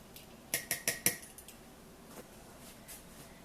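A glass jar is knocked down on a counter to level a layer of baking soda in an orange cranberry bar mix, giving four quick, close clinking taps followed by a few fainter ticks.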